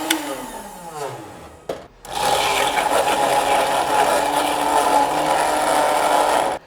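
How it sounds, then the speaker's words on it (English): A countertop blender mixes a frozen Guy Fawkes "Gunpowder Barrel" cocktail, spinning up after a short pause into a loud, steady whir that runs without a break. "let's get this into our blender and get this mixed up."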